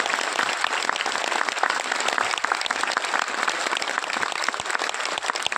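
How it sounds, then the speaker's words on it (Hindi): An audience at a public festival gathering breaks into loud, sustained applause, a dense continuous roar of clapping that holds steady throughout, close and without pause. "आप लोग के सम्मान में जोरदार ताली होनी चाहिए"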